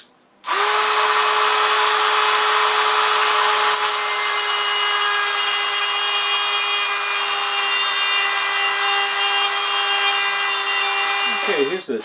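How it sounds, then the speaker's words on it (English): A Dremel rotary tool cuts through the tip of a screw in one continuous, loud, high-pitched whine that holds steady for about eleven seconds before spinning down. "So just going to cut it off with a Dremel tool."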